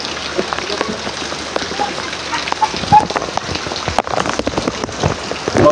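Heavy typhoon rain from Typhoon Carina pours in the Philippines, a dense, loud patter with sharp drops striking surfaces close by, while a voice speaks faintly underneath.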